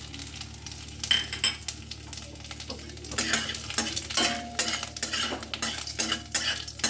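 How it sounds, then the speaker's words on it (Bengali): Oil sizzles and crackles in a pan with bay leaf, five-spice seeds and dried chillies as a spoon stirs and scrapes in uneven bursts, fairly close and without any talking. "তেজপাতা, 5 ফোড়ন, শুকনো লঙ্কা, এগুলো তেলে দিয়ে দিলাম।"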